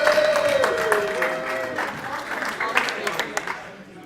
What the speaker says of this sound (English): Give all three wonderful speakers a big round of applause.